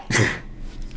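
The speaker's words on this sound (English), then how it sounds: "wait a second, I'm going to sneeze." A single sharp sneeze bursts out close by, then fades into quiet room noise.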